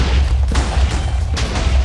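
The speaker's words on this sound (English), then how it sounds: "you can see that I can pretty much spam explosions as fast as I want" Minecraft PvP end crystals explode in rapid succession, heavy booming blasts with deep rumble that overlap almost continuously, loud and close.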